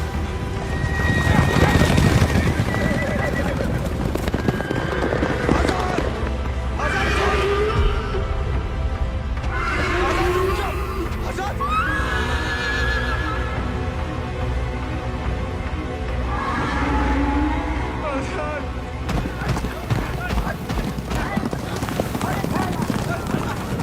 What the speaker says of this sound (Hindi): हमारे घोड़े को मार दिया। कोई बचाओ हमारे घोड़े को।